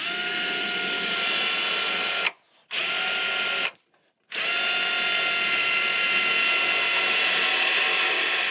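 A power drill bores a pilot hole for a hydraulic handbrake on a drift car, a steady high-pitched whine that runs loudly, cuts out for two short pauses, then spins back up and continues.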